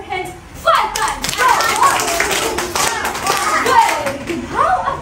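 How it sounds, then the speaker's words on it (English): In a kindergarten classroom, a group of children claps their hands in a quick, close series of claps, with a brief pause at the start and some children's voices mixed in. "Clap your hands 5 times."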